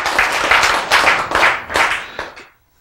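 Church audience clapping together in a few rhythmic bursts of applause that quickly fade out into silence.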